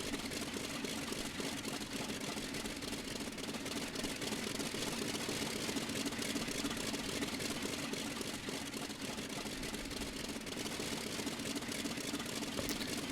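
A WWII F4U-1A Corsair's radial piston engine idles steadily at low RPM while taxiing in the FSX flight simulator, a continuous loud rumbling drone with no pauses.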